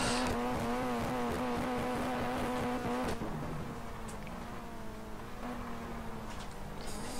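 A high-pitched Clio Cup race car engine screams at full revs at Thruxton circuit, holding a steady tone before dropping and rising again, loud and close throughout.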